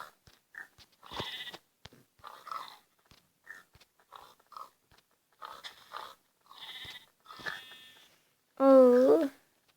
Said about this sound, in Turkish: koyun sesi. koyun koyun, koyun.